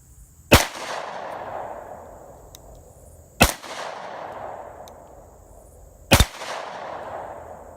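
A Rock Island 1911 pistol in 10mm fires three loud single shots about three seconds apart. Each crack rings out with a short echoing tail, and no one speaks.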